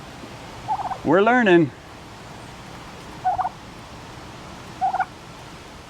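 Poultry in a brooder give a few short calls and one longer warbling gobble-like cry, close and clear against a faint background hiss, with a brief spoken voice.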